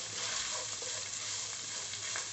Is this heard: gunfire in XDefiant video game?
no